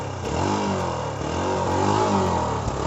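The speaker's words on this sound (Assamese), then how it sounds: "বাইকখনৰ এটা এক্সজষ্ট নটডাল শুনাই আছোঁ।" A 2022 Hero Xpulse 200 4V motorcycle idles with a steady, close exhaust note, rising slightly as if gently revved, with no talking.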